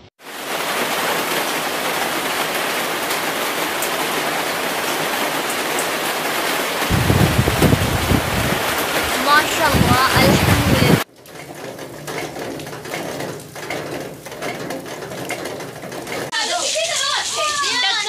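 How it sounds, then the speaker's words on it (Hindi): Rain falling outdoors, a dense steady hiss of drops that continues throughout, with a heavier stretch midway and an abrupt change in character toward the end, with voices mixed in. "अभी बारिश हो रही है, जैसे तुम लोगों के पीछे आवाज़ आ रही होगी बारिश की"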